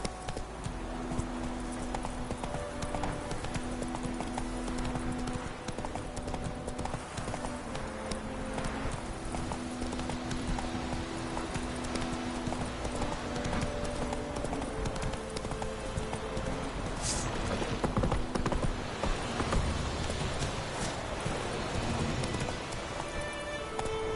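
Galloping horse hooves from The Witcher 3: Wild Hunt pound in a steady, continuous clip-clop rhythm under a constant rain-like wash and game music, loud and close throughout with no talking.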